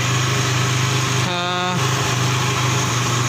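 A motorcycle engine idles while warming up after being revived with hair oil, a steady low rumble running throughout the clip with a brief tonal whine layered over it partway through.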